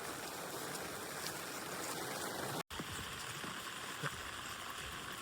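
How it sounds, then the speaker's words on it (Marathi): Heavy rain pours in the Sahyadri mountains, a dense steady hiss of falling water at low level with a brief dropout partway through. "खूप जोरात पाऊस पडतोय"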